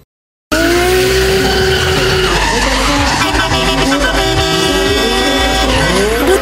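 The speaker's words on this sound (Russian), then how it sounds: "Гоночный болид кружит под колесами 10-тонного КамАЗа" A race car skids and spins at the G-Drive auto show, loud screeching tires and revving engine in a continuous harsh howl close by, with shifting pitch as it circles.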